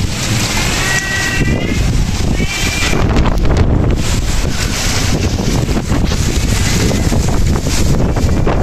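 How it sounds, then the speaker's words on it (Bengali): Strong wind roars and buffets the microphone without pause, a loud, dense rush that swells and gusts throughout. "প্রচুর প্রচুর বাতাস।"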